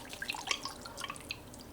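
Roux poured through a sieve into a pot of soup, giving a soft, close trickle of liquid with small irregular drips and splashes over about two seconds, fairly quiet, with no talking.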